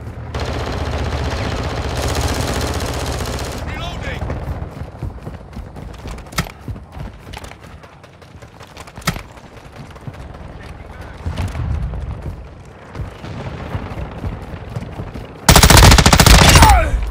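Gunfire in the video game Call of Duty: Modern Warfare II: loud automatic bursts and single shots, with quieter gaps between exchanges. Voices call out over the firing.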